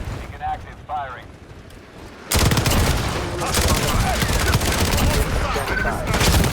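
Artillery strike in the shooter game Modern Warfare, a loud continuous barrage of rapid gunfire and blasts that erupts suddenly after a quieter stretch and rumbles on, with radio-style voices talking over it.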